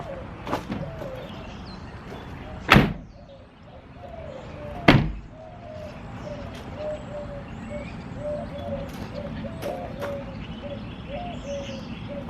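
Back door of a camper van being worked: two sharp, loud slams a couple of seconds apart, with a softer knock before them, while birds coo and chirp faintly outdoors.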